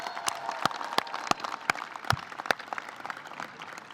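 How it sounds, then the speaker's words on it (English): Scattered applause at a university undergraduate commencement ceremony, a handful of sharp, distinct claps spaced irregularly against a quiet room rather than a full ovation. "Let's give them another round of applause."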